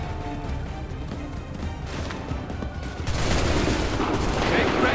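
In Assassin's Creed III, a musket volley crackles as a ragged burst of gunfire, growing louder and denser midway through amid battlefield noise.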